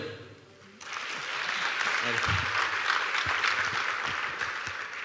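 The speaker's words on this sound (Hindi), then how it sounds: "तालियां" Audience applause during a student session at IIT Delhi, a dense, steady wash of clapping that starts abruptly after a brief quiet lead-in and holds loud for several seconds.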